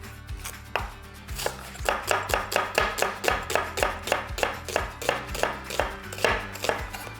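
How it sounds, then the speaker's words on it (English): Rapid, steady knife chopping of vegetables on a cutting board, dozens of crisp close thuds in an even rhythm, with no talking. "let's get to some chopping"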